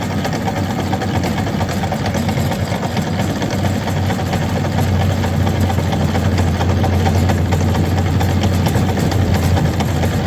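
Outboard motor on a small boat pushing through heavy pond weed on a fishery pond, a loud, steady low engine drone that runs unbroken throughout with no talk.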